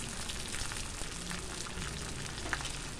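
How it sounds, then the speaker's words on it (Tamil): Tomatoes sautéing in a hot pan for a pepper fry give a steady, dense sizzle and crackle that holds evenly throughout, close and moderately loud, with no voices. "தக்காளி சேர்த்து கொஞ்ச நேரம் வதக்கி விடுவோம்."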